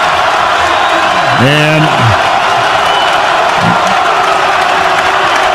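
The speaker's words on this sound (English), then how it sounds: "But this crowd is going nuts right now." Loud roaring crowd at a Santa Clara versus Saint Mary's college basketball game, dense sustained cheering with a commentator's voice and a short shout rising above it.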